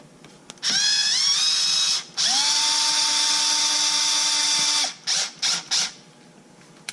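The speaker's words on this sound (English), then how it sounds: "Now I can take my drill" A power drill driving screws while assembling an ARRMA Limitless RC car whines up and runs steadily in two long bursts, then a few short quick pulses of the trigger near the end.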